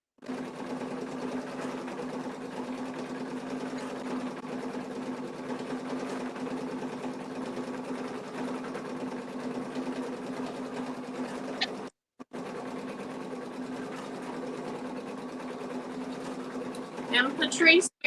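An embroidery machine stitches a tack-down outline on a mug rug, a steady close hum that runs unbroken apart from a brief pause near the end, followed by a few sharper mechanical clicks.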